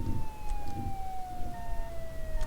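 A video game fire truck's wailing emergency siren sweeps steadily downward in pitch, fairly close and continuous, over a low rumbling engine.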